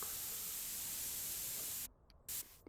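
Steady hissing of a paint spray gun coating a car in the game Car Dealer Simulator, then a short pause and a brief final burst.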